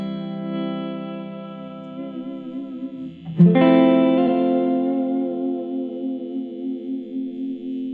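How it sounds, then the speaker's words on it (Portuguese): Clean tone from a PRS Custom 24 electric guitar: a sustained chord rings and fades, then a fresh strum near the middle rings out long and smooth, close and alone. "É o tipo de clean perfeito para você gravar qualquer coisa."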